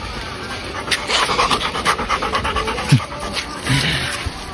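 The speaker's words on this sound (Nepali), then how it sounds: "त्यो के कुकुर यार यो कुकुर हो नि कुकुर त" A dog pants rapidly and close by in quick rhythmic breaths, with a brief whimper-like sound near the end.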